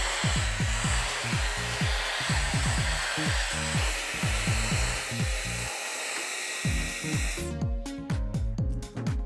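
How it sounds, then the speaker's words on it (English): A Dyson Airwrap styling hair blows a steady, close airflow hiss with a rapid rhythmic fluttering underneath, and the motor cuts out near the end into sharp clicking bursts. "I also feel like you don't need to hold the Dyson on your hair as long to get the curl."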